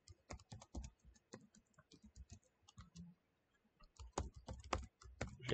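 Password typed on a computer keyboard in a quiet room: a rapid run of light key clicks, a brief pause, then another quicker burst of close, crisp keystrokes.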